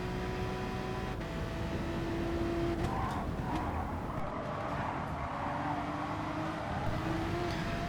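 Race cars in Gran Turismo Sport, including a Lamborghini, roar at close range with sustained droning engine tones and shifting pitch, joined by a brief tire squeal midway, with no talking.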